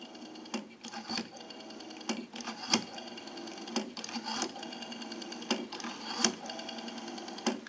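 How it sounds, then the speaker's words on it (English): A rotary dial on a single-slot payphone spins back after dialing, giving a steady mechanical whirring with a series of sharp clicking ticks, close and moderately loud, with no voices. "We have a nice smooth return on our rotary now."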